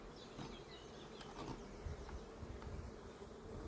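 Honey bees buzz around a small three-frame starter hive used for queen breeding, a close, dense swarm drone with individual insects passing near, continuous and without speech.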